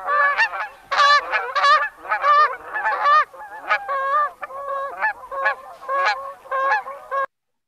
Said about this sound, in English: Canada geese, I think we don't really need to spend too much time on Canada geese, but we might as well just hear our friends.